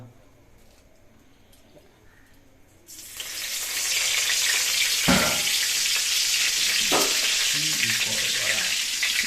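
Oil goes into a hot kadai and bursts into a loud, steady sizzle of frying after a quiet start. The hiss continues unbroken, with a few scraping clicks from a utensil.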